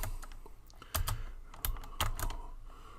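Computer keyboard typing of CSS code, with a few sharp, separate keystrokes and small clusters of clicks at close range, alone with no talking.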